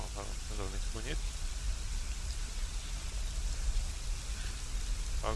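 Steady rain falls in the battle royale video game Ring of Elysium, a constant hiss of drops heard alongside a man's speech at the start and end.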